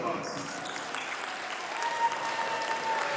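Audience applause at a Center City PCS Brightwood school event, a steady, dense wash of clapping from a crowd, fairly loud and continuous throughout with no pauses.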